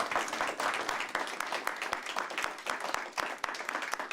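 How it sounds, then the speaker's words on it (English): A room full of people applauds a panel after a discussion of Europe's past, steady crowded clapping at moderate loudness with individual sharp claps standing out throughout. "round of applause to everyone on the panel here"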